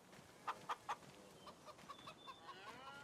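Chickens at a chicken coop in Farming Simulator 25 give a few soft, separate clucks and peeps, three sharper calls early and then fainter chirps, heard quietly at a distance with no talk.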